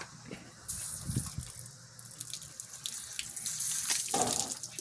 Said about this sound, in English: Did he turn the water off?